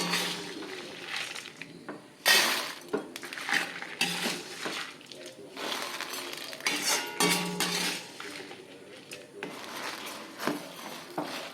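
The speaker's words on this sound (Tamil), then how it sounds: "இதை நம்ம ஒரு தாம்பாளத்துக்கு மாற்றி விடலாம்" Roasted lentils and dried chillies being tipped and scraped onto a metal plate, producing irregular rattling clinks and scrapes in short bursts with brief pauses between them.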